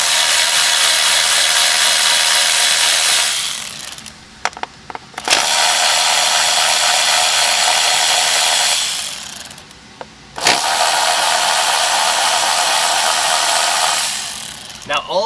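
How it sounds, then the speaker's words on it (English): Ratchet wrench removing the 8mm coil-pack bolts on a 2017-2021 Ford F-150 with the 3.5L EcoBoost engine, a loud, steady buzzing ratchet run in close-up with two brief pauses between long stretches. "we're gonna do that by unbolting the 8mm bolt right here."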